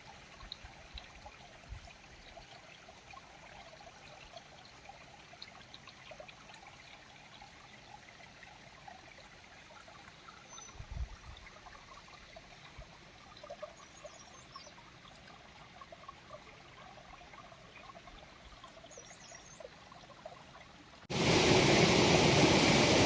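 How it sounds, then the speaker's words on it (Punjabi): A small waterfall stream in Barot valley babbles steadily and softly throughout, with no talking, until a sudden loud rushing burst near the end. "ਇੱਥੇ ਰਾਹ ਦੇ ਵਿੱਚ ਇੱਕ ਨਿੱਕਾ ਜਿਹਾ ਹੋਰ ਛੋਟਾ ਜਿਹਾ ਝਰਨਾ ਤੇ ਇਹਦੀ ਕਲਕਲ ਦੀ ਆਵਾਜ਼"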